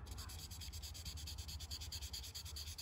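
A paint run on a car body is sanded by hand without a block, giving steady rapid back-and-forth rubbing strokes that are close but quiet, with no talking.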